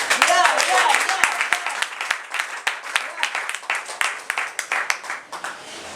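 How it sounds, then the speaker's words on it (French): An audience at a women's conference applauds together, with scattered sharp claps that thin into a looser, uneven patter over several seconds. "Applaudissons pour nous-mêmes."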